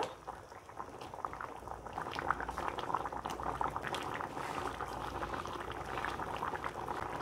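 A pot of fish curry with taro bubbles at a steady boil, a dense close burble of popping liquid that runs unbroken throughout with no voices.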